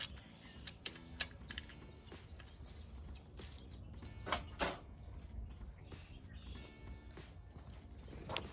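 Sharp metallic clicks and ticks from a wrench snugging the cam cap bolts on a 2.0/1.8 Hyundai Tiburon engine, scattered irregularly across a quiet workshop background, with a couple of louder knocks midway.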